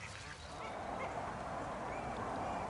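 Flock of waterfowl such as geese and ducks gathering to be fed by a man at a lakeside, a low murmur of honks and calls, moderately near and continuous.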